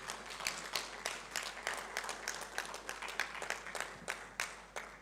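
Delegates clap steadily for the speakers at a launch event, a fairly faint, even patter of many hands with a few sharper individual claps standing out, continuing throughout with no talking.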